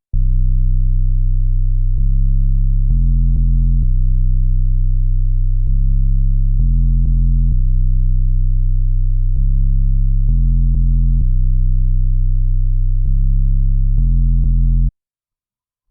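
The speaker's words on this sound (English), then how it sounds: "his next sound is the 808" Deep 808 bass notes from a dark piano trap beat made in FL Studio, played alone in a repeating pattern of long sustained tones that step between pitches, clean and loud, stopping abruptly at the end.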